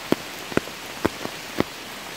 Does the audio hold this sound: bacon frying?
no